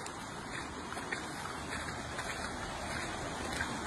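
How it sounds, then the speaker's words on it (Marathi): A flowing river beside a farmhouse near a quiet village produces a steady broadband rush of moving water that stays even and unbroken throughout, with no voices. "ही वाहती नदी आहे"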